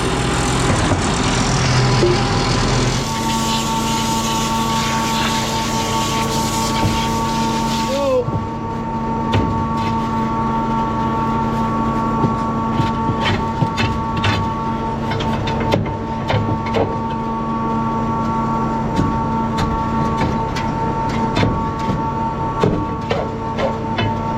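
A shotcrete pump used for pouring a swimming pool runs in reverse, producing a steady mechanical drone with tonal hum that shifts after a few seconds, plus intermittent knocks and clatter throughout.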